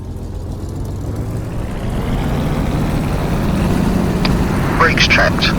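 Spitfire piston engine in the DCS flight simulator runs up steadily with a loud, continuous drone that builds slightly, joined near the end by brief higher clicking tones.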